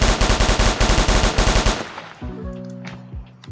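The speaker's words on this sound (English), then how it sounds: "this gun is a full auto. So just press and hold, and you got all these rounds spitting out." MP5 submachine gun firing full auto in the Roblox game ER:LC, a loud rapid burst of about twenty evenly spaced shots lasting under two seconds, then quieter game tones and ambience.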